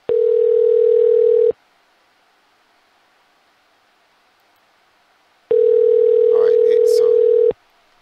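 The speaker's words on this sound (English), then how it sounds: "So definitely somebody call him because his phone is ringing out." A telephone call rings out unanswered: two long, steady ringback tones are heard clearly, separated by a few seconds of near-silence, the second with a faint trace of other sound mixed in.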